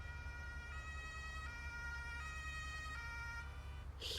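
Ambulance siren in a video game, a steady two-tone wail alternating high and low in even steps over a low engine rumble, fairly faint with a brief noisy burst at the end, no talk.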